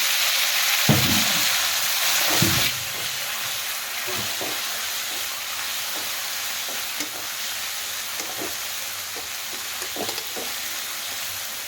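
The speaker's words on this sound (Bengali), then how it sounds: "আলু ফ্রাই তেলে জিরে, তেজপাতা, ফ্রাই করা মশলা" Potatoes frying in oil with cumin seeds and bay leaf, a steady hissing sizzle that eases after a few seconds, dotted with occasional soft knocks and stirs.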